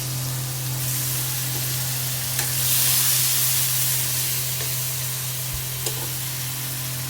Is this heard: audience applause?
no